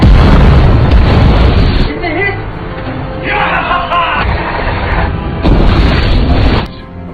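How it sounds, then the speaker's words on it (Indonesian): Heavy booming blasts and crashing impacts from gunfire hitting American ships rumble through a dense naval battle din, with voices shouting over the chaos. "tembakan mereka berhasil mengenai beberapa kapal Amerika itu"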